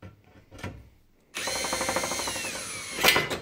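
A Parkside PSSA 4 A1 cordless screwdriver drives a screw in: after a couple of soft clicks, the motor whirs loud and close with a steady pitched hum and rising whine for about two seconds, ending in a brief harsher burst.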